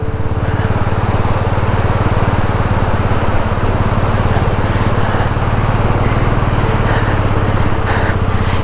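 A motorcycle engine drones loud and steady during a river crossing on the Zanskar route near Shinku-La Pass, a continuous rough buzz with rushing water mixed in and no talking.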